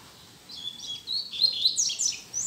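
A double-collared seedeater sings a rapid run of high, bright chirps and twittering phrases, fairly close and alone with no talk, steady and lively through the whole stretch.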